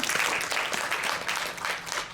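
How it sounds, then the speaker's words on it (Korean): Applause from a church retreat congregation during a Korean sermon, a steady dense clapping that fills the whole stretch at even loudness, heard alone without talk. "박수."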